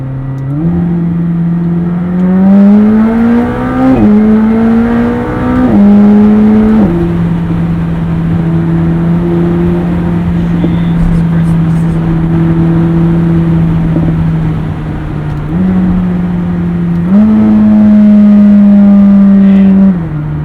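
A McLaren 765LT engine revs loudly and steadily, pitch climbing through several gear changes, then holding a sustained drone before rising again near the end.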